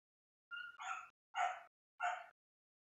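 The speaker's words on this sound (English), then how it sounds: "That dog barking in the background." A dog barks four times in quick succession, the first two nearly running together, then two separate barks, clear and moderately close against otherwise silent surroundings.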